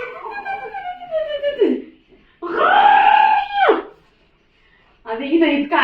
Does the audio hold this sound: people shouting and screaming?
yes